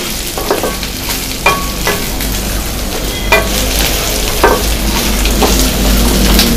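A spoon scraping and stirring a pepper spice mixture in a hot pan, with a few distinct scrapes over a steady sizzle that carries on throughout, close and fairly loud, no talking.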